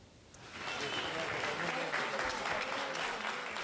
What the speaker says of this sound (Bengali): রীতিমতো করতালি দিয়ে সংবর্ধনা জানানো হচ্ছে 2 আইডিএফ সেনাকে